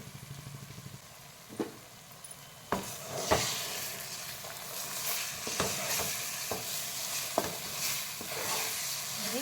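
Three eggs fry in a pan over a low flame for egg rice, a soft hiss that swells into steady sizzling, punctuated by occasional spatula scrapes.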